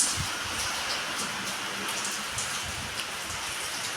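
Heavy rain falls in a thick, unbroken hiss, with drops pattering on nearby surfaces throughout.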